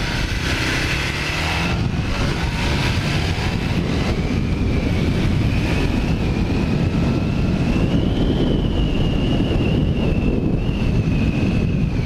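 A 1980 Kawasaki LTD440 motorcycle riding along, its engine a steady loud drone with rising pitch as it accelerates, heavily mixed with rushing wind buffeting the microphone throughout.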